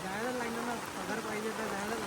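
Heavy rain in Mumbai pours as a steady, dense hiss, with a voice talking over it throughout.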